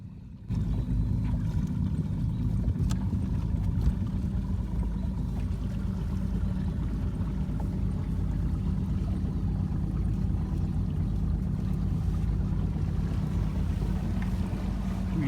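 A 1979 Glastron CVX16 boat with an Evinrude E-TEC 150 HO outboard drones steadily at low pitch on Cass Lake, with wind and water noise over it, after a brief quiet start.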